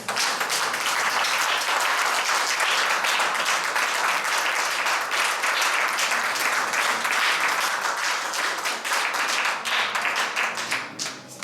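A church congregation at a Christian centre in Montargis bursts into loud, sustained applause for the Lord, dense rapid clapping filling the room steadily before easing slightly at the close.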